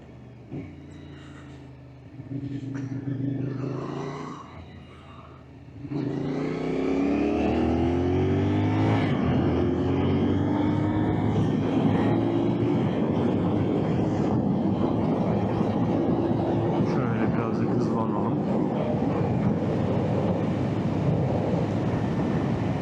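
A CFMoto 450SR motorcycle engine on the move: a softer, uneven drone at first, then from about six seconds a louder sustained roar with rising rev tones and wind rush, up close and continuous.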